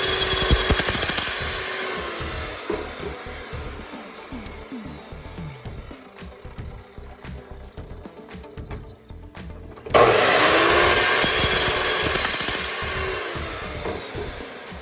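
Power tool cutting a dado strip into a wooden garage cabinet part, giving a harsh whining cut at the start and again after a pause, with scattered knocks and handling noises in between.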